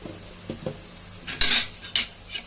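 A metal spoon scraping and clinking against a cooking pot while fish curry is stirred, with a few soft knocks early on, then brighter, louder scrapes and clanks in short bursts.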